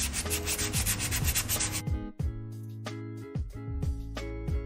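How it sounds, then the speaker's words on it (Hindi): A brake part from a Honda Amaze is polished and cleaned during a car service, giving harsh, continuous abrasive rubbing up close, first fast and rhythmic, then broken into uneven scraping strokes with a tonal whine. "तो अभी हम इसको पॉलिश करेंगे और क्लीन करके वापस से लगा देंगे।"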